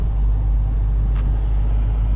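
A Dodge Hellcat Widebody with a supercharger holds a steady, loud low rumble close by, its drone and whine constant and unbroken throughout, with no voices over it.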